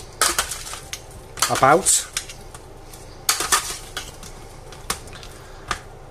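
Roasted potatoes and chicken tossed together in an oven dish, giving scattered clinks and scrapes of a utensil against the dish, with one longer scraping run in the middle and a brief spoken word.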